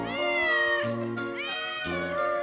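A cat at the Rome cat sanctuary among ruined columns and rubble gives two long, loud, close meows in quick succession, each drawn out and rising in pitch, with no other sound around.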